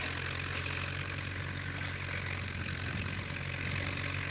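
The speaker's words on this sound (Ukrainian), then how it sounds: "Працює наш трактор, який ми взимку відремонтували, поставили, гарно працює." A tractor repaired over the winter runs steadily outdoors, its engine giving a constant low droning rumble with no breaks.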